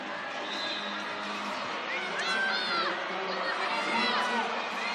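Excited basketball crowd at a New Zealand NBL game between the Manawatu Jets and Canterbury Rams, cheering and whooping as T-shirts are fired into the stands; a dense, steady roar of voices with scattered shouts and whistles.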